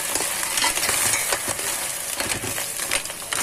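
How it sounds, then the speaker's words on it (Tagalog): Mussels sauté in a pan for a simple tahong with patola dish: a loud, close sizzle with stirring, punctuated by sharp clinks and rattles of shells against the pan. "Ayan, nagigisa."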